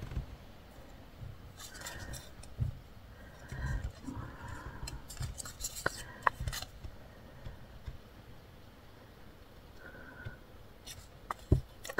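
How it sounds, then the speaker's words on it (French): Scissors snip a small piece of paper for a scrapbooking mini-envelope embellishment, giving quiet, scattered close-up cuts and paper rustles over a soft background. "Et je vais venir découper un tout petit bout ici."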